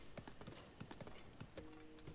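Horse hooves clip-clopping at a steady walking rhythm in the video game Zelda Breath of the Wild, moderately close, with a brief faint tone partway through and no talk.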